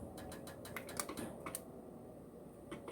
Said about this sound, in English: I'm gonna turn my timer on.